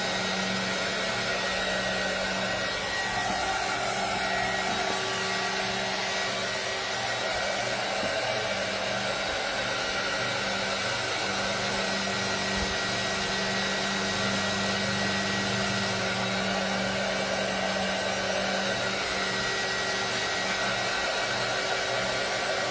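Hair dryer running steadily at close range, drying a freshly worked piece quickly; a continuous loud whooshing blow with a motor hum that holds unchanged throughout, no talking.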